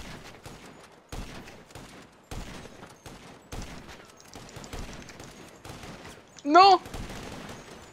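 Gunfire in GTA 5 Online: a steady run of sharp shots, some in quick bursts, spread across the scene, with a voice shouting briefly over them.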